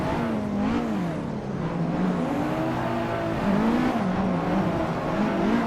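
A drift car's engine in the racing game Assetto Corsa revs up and down repeatedly as it slides on track, with a loud, continuous wavering drone, the pitch rising and falling in cycles.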